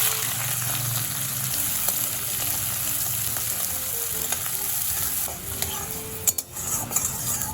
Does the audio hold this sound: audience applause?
no